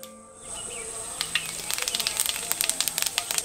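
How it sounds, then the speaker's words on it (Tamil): Mustard seeds and cumin sizzling in a spoonful each of oil and ghee over a village wood-fired stove, a close hiss with a fast run of sharp crackles and pops. "ஒரு தேக்கரண்டி எண்ணெய், ஒரு தேக்கரண்டி நெய்யை சேர்த்துட்டு கடுகு,"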